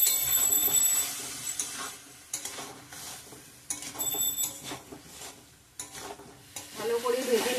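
Potatoes fry with a spice masala and tomato paste in a pan, giving a faint sizzle broken by stirring scrapes and utensil clinks in uneven bursts, close by and without talk.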